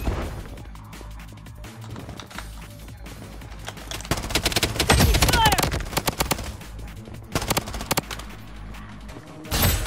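Rapid gunfire crackles in the mobile shooter Blood Strike, with dense automatic bursts and sharp single shots. The shooting peaks loudly near the middle, with occasional game voice callouts in between.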